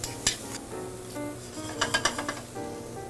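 Cauliflower with garlic, salt and white pepper cooking quickly in a pan, with a soft sizzle under sharp clinks and scrapes of a utensil against the pan, close up and without talk.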